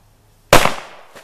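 A single sharp blast from a 9mm pistol, a Canik or Sig Sauer, fired about ten feet away near a pool of water, erupts from silence and decays quickly, followed by a faint splashy tail.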